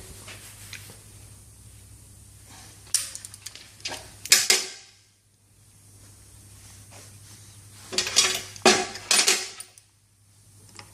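Metal parts of a Flamingo piston filler, its rotary valve and nozzle, click, clink and scrape in several short bursts of handling and tightening, close by and separated by quiet pauses.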